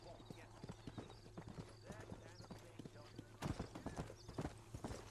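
A horse trots in the Red Dead Redemption video game. Steady clip-clop hoofbeats run through the clip under a low hum and game ambience, with a brief whinny-like sound and louder hoof strikes toward the end.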